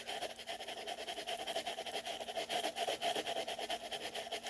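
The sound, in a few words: scrubbing Color Street nail strips off nails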